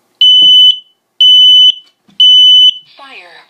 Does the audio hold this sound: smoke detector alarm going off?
yes